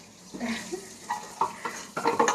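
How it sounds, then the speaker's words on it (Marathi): A spoon stirs onion masala roasting in oil in a pan for Maharashtrian katachi amti, with scraping strokes and soft sizzling heard up close at an uneven pace, without speech. "मसाला आता आपल्याला व्यवस्थित भाजून घ्यायचा आहे पूर्ण तेल सुटेपर्यंत"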